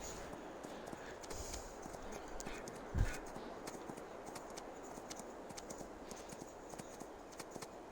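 Horse hooves clip-clop in Farming Simulator 22 as a horse is ridden toward a fence jump, a steady quiet patter of hoofbeats with one thump partway through, faint and continuous.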